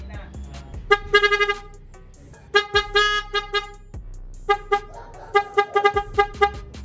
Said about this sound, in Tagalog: meron din pala tayo nilagay dito na busina